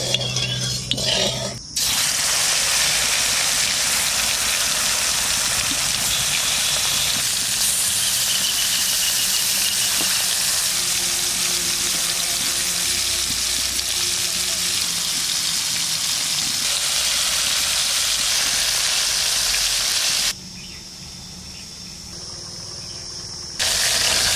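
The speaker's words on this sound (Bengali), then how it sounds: "মাছটা একটু ভেজে নেব।" Shol fish fries in hot mustard oil in a kadai, making a loud, dense, continuous sizzle and spatter that holds for about twenty seconds, dips briefly, then returns strongly; no voices.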